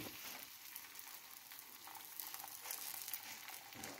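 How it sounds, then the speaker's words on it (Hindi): Maize flour paratha laid on a hot griddle with oil gives a steady, faint crackling sizzle with no pauses and no voices. "मकई की रोटी को इस तरीके से हम डालेंगे तवे के ऊपर, इस तरीके से डाल देंगे।"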